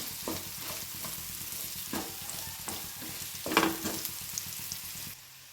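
Spiny gourd curry is stirred in a pan after salt goes in, with rhythmic scraping strokes about once a second over a low, constant sizzle, close and alone.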